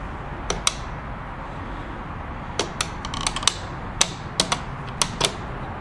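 Moving parts of a Necchi 525FA sewing machine make sharp, close mechanical clicks and ticks in irregular clusters over a low hum, with no voice.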